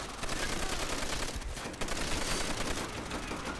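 Sustained machine gun fire in the World War II shooter Call of Duty: World at War, a dense unbroken stream of rapid shots that stays steady and fairly quiet throughout, with no one talking.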